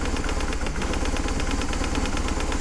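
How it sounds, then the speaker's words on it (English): A BMW Boxer flat-twin motorcycle engine, fuel injected, idles steadily up close with an even, rapid pulsing throb and no talking over it. "The magic of a BMW Boxer motor."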